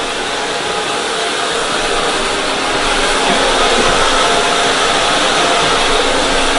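A handheld hair dryer runs steadily through a blow dry, a loud, constant close-up whoosh of rushing air that never stops or changes pitch.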